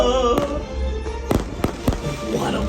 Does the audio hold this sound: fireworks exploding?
yes